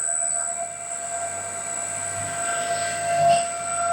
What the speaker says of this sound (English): you can see the frequency is reducing and motor speed is also reducing